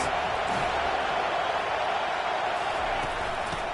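Steady, dense roar of a football stadium crowd as the Wolfpack defense faces a big third down, loud and continuous throughout without clear individual voices.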